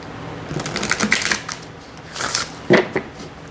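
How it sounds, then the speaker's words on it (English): A deck of oracle cards being shuffled up close, two quick bursts of riffling and flicking with a sharp tap between them. "So let's just shuffle it one more time."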